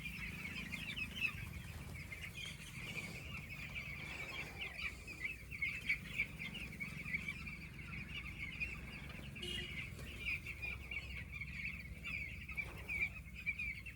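A flock of young chickens on a poultry farm, spread thinly in hot weather, keeps up a continuous soft clucking chatter with occasional wing flaps, steady and moderately distant.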